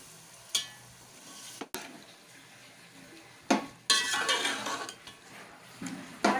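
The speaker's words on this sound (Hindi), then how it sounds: "अब हम इसमें डालेंगे चने" Boiled chickpeas go into a pot of chana pulao with tomatoes and green chillies, then get stirred, with a clatter of a spoon against the pot, soft frying sizzle, and scraping stirs in bursts.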